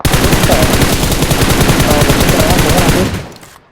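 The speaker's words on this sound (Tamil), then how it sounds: "விஎஸ்எஸ் வச்சு அடிக்கிறான்டா" Rapid automatic fire from a VSS rifle in a shooting video game, a loud continuous burst of closely spaced shots lasting about three seconds before fading away.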